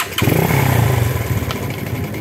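A Honda Astrea motorcycle engine starts up and settles into a steady, loud idle close by, with a low rumbling drone throughout and no talking.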